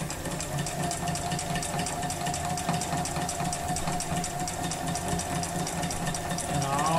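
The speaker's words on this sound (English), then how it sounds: "I'll do one on this side and stitch along the ditch here" A sewing machine runs steadily and continuously while free-motion quilting gentle curves, its fast rhythmic stitching hum close and unbroken with no talk.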